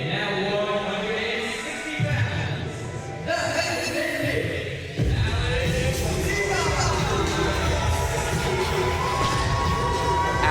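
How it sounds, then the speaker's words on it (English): Wrestling event crowd at a live independent show cheering loudly and continuously, a dense roar of many voices with shouts rising sharply around the midpoint and staying at full volume. "You see the crowd leaping to their feet, wanting to give that man a high five, supporting him."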